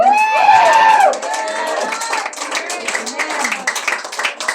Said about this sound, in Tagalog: Mahina yung palakpak, mga kapatid.